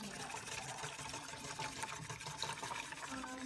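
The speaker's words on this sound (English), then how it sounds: "I'm just gonna pour this in there while I whisk." A dissolved mixture is poured from a cup into lemon curd while it is whisked, giving a steady, close liquid pouring and stirring sound throughout.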